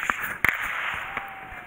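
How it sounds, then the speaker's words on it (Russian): A few sharp cracks and pops of New Year fireworks ring out in the distance over Sparrow Hills in Moscow, with one louder burst among lighter bangs over a faint outdoor hiss. "Вон салют."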